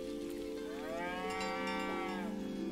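A cow in a video game gives a long, loud, drawn-out moo over a steady background of game music and ambience.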